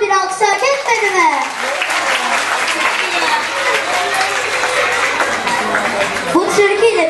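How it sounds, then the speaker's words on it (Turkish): Children and adults applaud at a summer-activities award ceremony, a dense, steady wash of clapping lasting several seconds, with children's voices chattering and calling over it. "Kocaman bir alkışa hak etmedi mi?"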